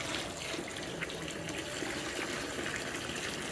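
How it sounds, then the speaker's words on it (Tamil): Water is poured into a pot of dried-fish curry being cooked for a village temple festival, making a steady, continuous gushing splash at close range. "நல்லா வதங்கினதுக்கப்புறம் இந்த குழம்புக்கு தேவையான தண்ணியை நம்ம முதல்ல ஊற்றிக்கலாம்."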